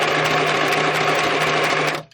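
A sewing machine stitches through paper pages of a junk journal with a fast, steady, close mechanical whir. It runs alone and stops abruptly near the end.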